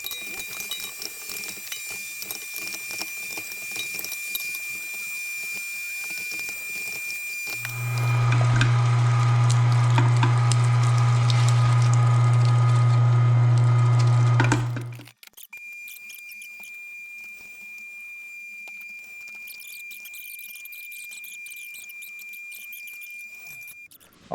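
A meat grinder fitted with a coarse 3/8-inch plate grinds lamb for breakfast sausage. Its motor drones loudly and steadily for about seven seconds, then cuts off abruptly, with quieter handling noises before and after.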